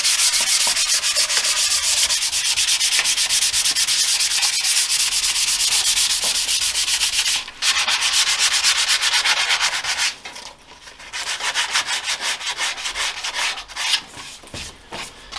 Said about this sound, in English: I'm gonna go over with a fine mesh sanding pad here